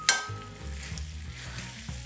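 Red onion and bacon sizzle and crackle steadily in a hot pan, with a sharp clatter at the start as they are stirred, then a continuous close frying hiss with occasional utensil taps.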